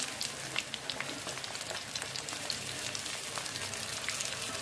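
Onions fry in hot oil in a kadai for a tinda gravy, giving a steady, dense crackling sizzle with bright popping spatters throughout, close and alone.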